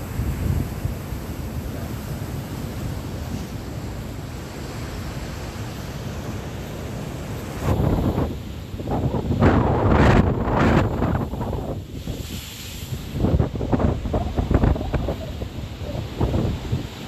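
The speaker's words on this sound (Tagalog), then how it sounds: "lalaki ng alon dito." Strong wind rushes over big ocean waves, with a steady roar at first and then several loud, surging crashes of surf close by toward the end.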